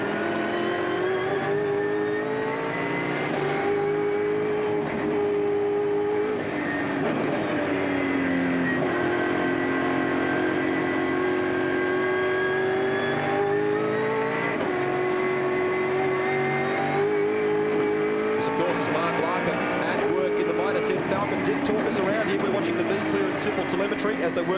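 Touring race cars at Barbagallo Raceway run through a corner in the 2000 Shell Championship, engines droning and shifting pitch continuously under steady commentator talk.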